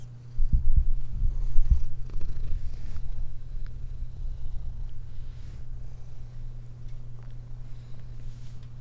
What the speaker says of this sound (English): Oh, I hear the purrs in my headphones.